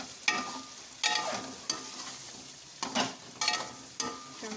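Spices, coriander powder, turmeric and tomatoes stirred and frying in a pan for chicken pulao, with several rhythmic scraping strokes over a steady close sizzle, no talking.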